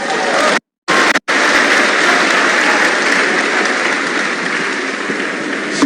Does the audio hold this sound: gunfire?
no